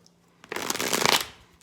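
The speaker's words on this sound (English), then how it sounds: "one more shuffle." Tarot cards riffle and slide together in one burst of shuffling, close and crisp, rising quickly and tapering off after about a second, with no talking.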